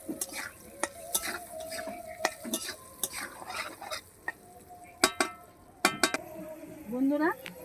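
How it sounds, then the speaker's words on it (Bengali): Potato pieces with salt and turmeric frying in oil, a soft sizzle beneath repeated close scrapes and clinks of a spatula stirring against the pan, with a higher metallic scrape near the end. "এই আলুটা তেলে ছেড়ে দিচ্ছি ভাজার জন্য।"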